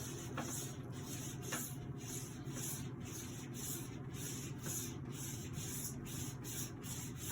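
A straight razor blade is honed by hand on a wet sharpening stone, producing a steady, continuous rubbing scrape that runs close and even throughout, with no talking.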